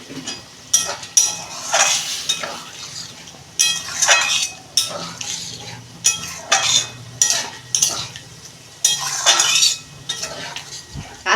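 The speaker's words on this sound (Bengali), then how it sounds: "ডালটা আমি দিয়ে দিচ্ছি।" Chana dal goes into a pan of cooked spices and is stirred, giving repeated metal scrapes and clinks from the spoon over a soft sizzle, close and fairly loud, with no talking.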